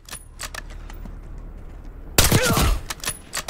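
Scattered clicks and light taps, then a sudden loud burst of gunfire in Call of Duty Black Ops 6 crackles for under a second, followed by fainter rattling noises.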